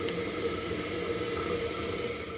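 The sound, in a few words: toilet tank filling with water from the supply line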